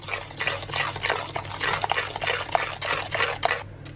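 A spoon stirs cocoa powder and sweetener into a thick coconut flour brownie batter, giving close, wet, rhythmic scraping and squelching strokes in steady repetition.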